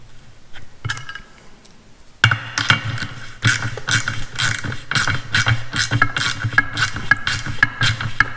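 A ratchet tightens the valve stem nut on a TPMS tire pressure sensor, making close, rapid metallic clicking in steady runs after a quieter start.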